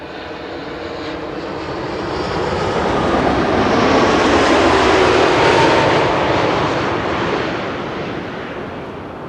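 A KLM Boeing 787-10 Dreamliner arriving at Schiphol roars overhead, rising from a distant rumble to a loud peak and then receding, alone without voices.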